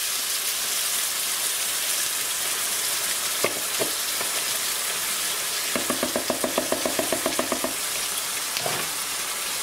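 Chopped tomatoes hitting a pan of minced meat sauce, a steady close sizzle and bubbling with a few clicks and a short burst of rapid rattling taps from stirring, no voices.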